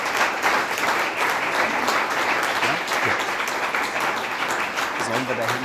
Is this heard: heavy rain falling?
no